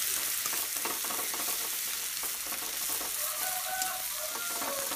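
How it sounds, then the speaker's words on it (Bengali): Chopped onions fry steadily in a pan for a river stingray fish curry, giving a dense, continuous sizzle and crackle with occasional stirring sounds and no voices. "পেঁয়াজ কুচিগুলো ধীরে ধীরে করে ভেজে নিতে হবে, যাতে পোড়া না লাগে তলে,"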